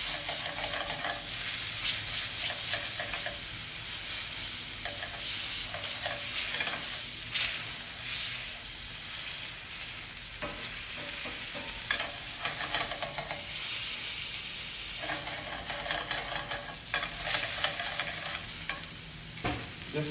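A boneless strip steak sears in a hot pan, a steady loud sizzle with bursts of crackling and scraping as it is kept moving, continuing without any talk.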